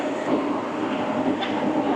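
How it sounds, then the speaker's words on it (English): A Las Vegas monorail train gives a steady, loud rumble from inside the car as it travels. The hum is broad and continuous with slight rhythmic variation, and no one speaks. "It's Greta's first monorail ride."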